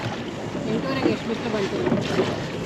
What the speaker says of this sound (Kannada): ಯಮುನಾ ನದಿಯಲ್ಲಿ ದೋಣಿ ವಿಹಾರ ಮಾಡ್ತಾ ಇದ್ದೀವಿ